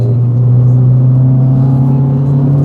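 A Proton Satria GTi accelerates along Welsh back roads, its engine note a steady, loud mid-range drone with clear harmonics that climbs gently throughout, close and continuous with no talk.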